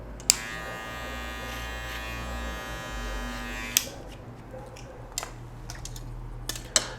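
An electric hair clipper buzzes steadily for about three and a half seconds while cutting a flattop, pushed upward in straight lines. It is followed by quieter scattered clicks and handling noises.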